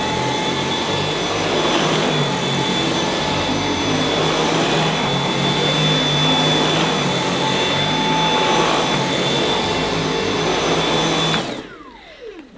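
A Dyson V8 Extra cordless vacuum cleaner on its regular setting runs with a steady, loud, close whine and airy roar that holds evenly, then cuts off abruptly near the end.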